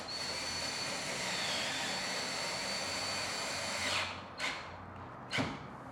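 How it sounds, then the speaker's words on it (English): A power driver whirs continuously as self-tapping screws are run into a drilled hole while fitting diamond plate rocker panels on a Yamaha G-series golf cart, the high steady whine cutting off near the end, followed by two brief bursts. "Grab the self-tapping screws and run them through the hole."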